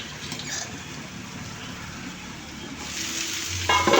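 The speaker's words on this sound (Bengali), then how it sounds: "এখন গরম পানি অ্যাড করে দেবো, এটা সেদ্ধ হওয়ার জন্য" Beef liver bhuna frying in a pan gives a steady crackling sizzle, and hot water pours in near the end with a louder rushing splash and bubbling.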